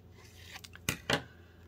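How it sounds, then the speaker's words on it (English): Scissors snipping paper into a fishtail banner for a handmade Christmas card: a few faint small rustles, then two crisp, distinct cuts close by in a quiet room. "So I'm going to go from the outside corner and cut into the center."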